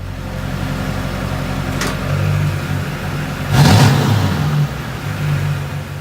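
A Duramax pickup truck engine cranks and catches, then settles into a loud, close idle with a brief rev swelling in the middle before easing back down, with no voices.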